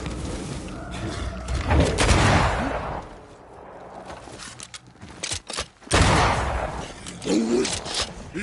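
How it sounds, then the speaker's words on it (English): Gunshots and booming blasts in the action game Banishers: Ghosts of New Eden, a supernatural fight setting, come as a loud burst, then a quieter stretch, then a tight volley of sharp shots followed by renewed rumbling combat. "That corpse is gonna shoot."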